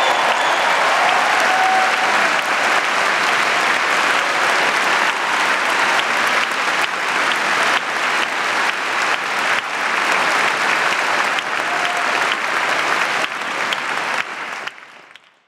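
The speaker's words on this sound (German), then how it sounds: "bitte schicken Sie nochmal einen ebensolchen Applaus hinterher für Jule Weber" A concert hall audience at a poetry slam awards show gives sustained, dense applause for poet Jule Weber, steady and loud before tapering off at the end.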